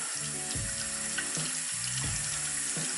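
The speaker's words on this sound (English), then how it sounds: "So I can run this under the water" A makeup brush held under a running bathroom tap, with a steady close stream of water splashing and gurgling as the bristles are rinsed of soap.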